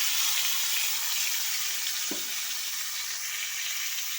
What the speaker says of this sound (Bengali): আমটা একটুখানি ভেজে নেব